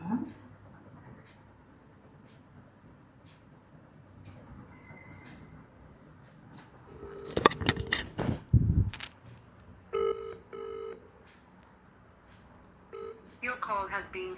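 A phone call rings out with repeated electronic tones and beeps before switching to voicemail, faint at first and then sharper, heard amid a low background hum, brief clatter and occasional voices.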